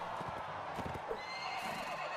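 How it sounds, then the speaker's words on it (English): Horse in the video game Mount & Blade Warband lets out a short whinny over a few clip-clopping hoofbeats, quiet and brief, with no talk over it. "First, I use my horse as a shield."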